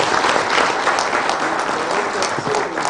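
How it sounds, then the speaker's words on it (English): Applause from a conference audience at a cyber security indaba, loud and sustained dense clapping that fills the whole stretch, with voices faintly mixed in. "Shall we give everyone a round of applause?"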